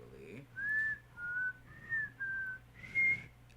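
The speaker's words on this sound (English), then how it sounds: "I can't whistle very well." A person whistles five short, somewhat wavering notes with brief pauses between them, faint and close over a low background hum.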